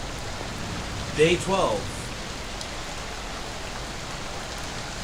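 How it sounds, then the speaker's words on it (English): Steady rain, a soft even hiss of drops on a surface, continuous and fairly faint, with a brief spoken phrase over it early on. "It just keeps raining."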